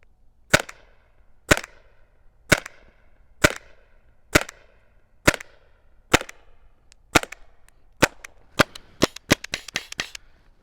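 A CO2 gun fires at a steady pace, sharp close cracks about a second apart, then a faster burst of shots at the end.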